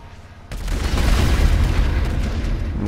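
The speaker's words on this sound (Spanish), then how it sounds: "se han pegado los cohetes en el aire" RPG rockets colliding and exploding mid-air in GTA V online: a sudden loud blast that swells into a long, heavy rumbling roar lasting several seconds.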